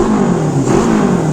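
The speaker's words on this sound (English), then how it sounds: "Perfect little Honda 4-cylinder motor." A Honda CB550 four-cylinder motorcycle engine on a custom chopper revving hard, a loud, close, sustained mechanical roar with a steady tone and no talking.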